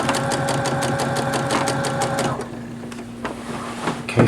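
Sewing machine stitching across a thicker seam with a long stitch length, a rapid close mechanical chatter for about two seconds, then stopping into quiet hum and a few faint handling clicks.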